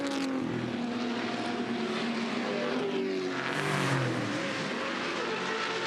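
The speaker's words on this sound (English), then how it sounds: "Paul Freestone in that great-looking 68 Camaro just up in front there" V8 race cars, among them a 1968 Camaro, roaring past during Bathurst 1000 support racing, a loud continuous engine drone with pitch sweeping as cars pass close by.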